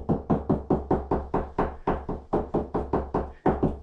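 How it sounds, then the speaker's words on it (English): Knuckles rap on a laundry room wall to find studs, about fifteen quick, evenly paced knocks at close range with no talking. "So what I do is I like to knock."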